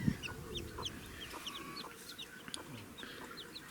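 A hen clucks softly while many newly hatched chicks peep in high, rapid chirps throughout, fairly close.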